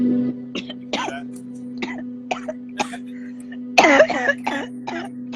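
Several short coughs and throat-clearing bursts spaced through the clip over a steady hum, with one louder, harsher burst near the end.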